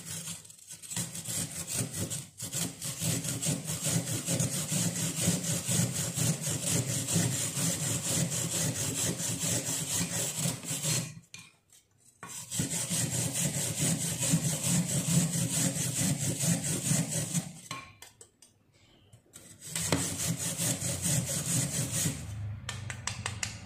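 A piece of wood charcoal is grated into powder in long, continuous rasping strokes, loud and close, with two brief pauses between bursts.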